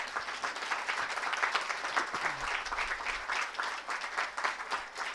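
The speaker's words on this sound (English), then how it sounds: "I think a very, very big applaud for them." Warm, sustained applause from an audience at a prize distribution ceremony for a moot court competition, a dense continuous patter of many hands at moderate loudness.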